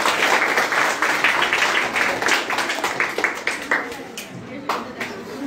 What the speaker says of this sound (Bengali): আমরা সবাই এই দলের জন্য একটা হাততালি দেই না?